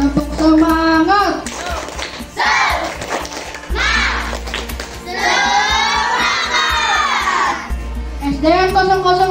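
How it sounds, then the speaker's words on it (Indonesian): Schoolchildren at a state elementary school in Samarinda perform a rhythmic spirit clap, loud shouted chanting in bursts punctuated by crisp group claps, with a low hum running beneath. "Tepuk semangat."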